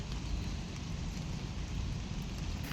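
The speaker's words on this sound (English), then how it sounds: "It had started raining by the time I went back outside" Rain falling outdoors in a botanic garden in Belfast, a dense, even hiss of drops pattering on surfaces close by, steady and unbroken throughout with no voices.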